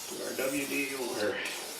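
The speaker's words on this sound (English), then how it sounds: "silicone spray over here as well. So this will just allow this to slide on" Silicone spray hissing from an aerosol can onto a trailer tire rim in one continuous close burst lasting under two seconds, with a voice talking over it.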